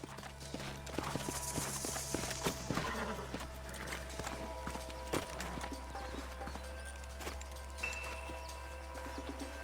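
Horse hooves clop steadily on the ground in Red Dead Redemption 2, amid a busy background of ambient noise and a low hum, with scattered small knocks.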